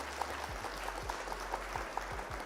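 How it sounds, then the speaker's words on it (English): Light, scattered applause from a small group, soft and steady for a couple of seconds, with a low rumble beneath. "Round of applause for our opponent."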